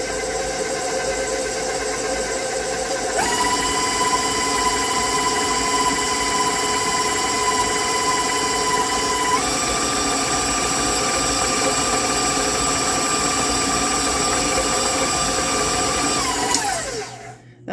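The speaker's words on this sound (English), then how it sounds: "I have my huge mixer. It's 6 quarts." A big 6-quart Pro Series stand mixer runs steadily with a loud motor whine and buzzing gear hum, stepping up in speed twice before winding down and stopping at the end.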